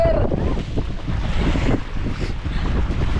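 Strong wind buffets a boat out at sea, roaring steadily and close with wave wash beneath it, and faint voices come through the gusts.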